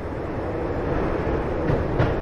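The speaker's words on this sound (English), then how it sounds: "When the train he was riding slowed down" A train in the video game Max Payne rumbles loudly and steadily up close as it slows down, a dense rolling roar with a couple of soft clunks near the end.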